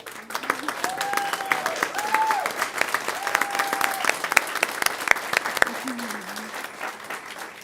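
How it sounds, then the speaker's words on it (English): Audience applause at a board of trustees meeting, sustained dense clapping from a crowd filling the room, with a voice speaking over it. "well-deserved round of applause."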